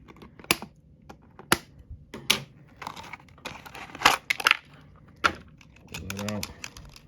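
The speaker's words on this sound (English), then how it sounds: "Grab my handy scissors here." A few sharp clicks and snips from scissors cutting a zip tie on a mini RC car, scattered among light handling noises and brief murmured speech.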